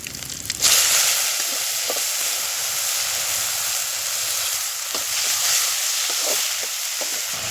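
Chopped banana flower hits hot oil with cumin and crushed garlic in a pan for poriyal, bursting into a loud steady sizzle that continues throughout, with occasional soft stirring knocks and no voices.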